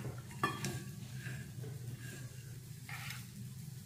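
Peanuts sauté in a pan for a ragi dish, a light sizzle broken by a few scraping stirs and a sharp clink of the spoon against the pan, close and quiet, with no voice.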